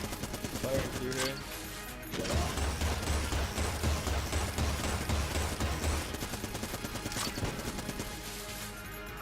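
Rapid bursts of gunfire from Enter the Gungeon fill the scene, a dense steady rattle of shots with game music and effects layered beneath, loud and continuous for most of the stretch.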